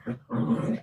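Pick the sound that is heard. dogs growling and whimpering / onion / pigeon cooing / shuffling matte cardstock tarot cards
dogs growling and whimpering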